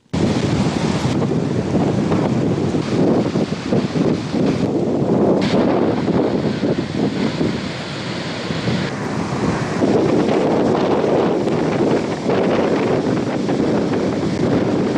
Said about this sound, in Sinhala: මුහුදේ ඉතා තද සුළං තත්ත්වයක් පවතින බවයි වාර්තාකරුවන් පවසන්නේ.